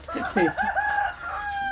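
A rooster crows loudly and close by, one long drawn-out call with a sharp rising start, trailing off over faint background noise.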